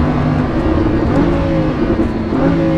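A Lamborghini Huracan engine roars loudly and continuously as the car accelerates, its pitch rising and shifting as the transmission changes gears, heard up close with no speech.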